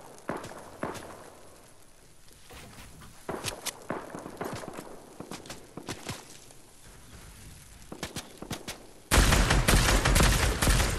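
Gunfire in a multiplayer shooter video game, scattered sharp shots and short bursts mixed with footsteps and movement, near and loud, ending in a dense continuous barrage.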